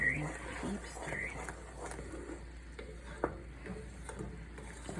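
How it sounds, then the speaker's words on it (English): A spoon stirs and scrapes sorrel jelly in a pot, soft repeated scraping and a faint simmering bubble under quiet talk, with one sharper knock of the utensil against the side. "I have to keep stirring,"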